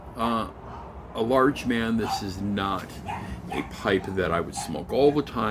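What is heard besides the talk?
dogs barking and whimpering in the background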